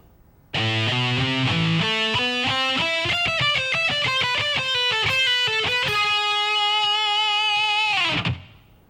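A distorted electric guitar plays a technical shred lick at slow speed, a steady run of distinct picked notes stepping through the phrase before one long held note rings out and cuts off, loud and alone.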